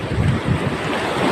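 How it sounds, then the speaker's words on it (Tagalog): Strong surf crashes continuously along the Ilocos Sur coast, a loud, close, churning wash of waves with heavy wind buffeting the microphone throughout. "Ang lakas ng alon eh."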